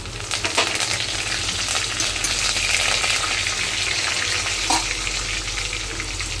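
Curry leaves and garlic frying in hot oil for vaghareli khichdi, a loud continuous crackling sizzle near at hand with a low steady hum underneath and a couple of sharper pops, no one talking.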